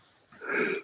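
One short, fairly quiet sneeze bursts out over a faint, hushed background, with no talking around it.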